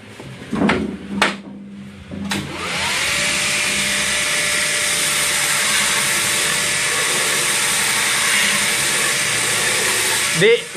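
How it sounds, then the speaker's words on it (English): A bench grinder whines steadily against a rusty knife blade in a knifemaking shop. It follows a few brief knocks and runs loud and continuous to the end. "he's gonna grind on it"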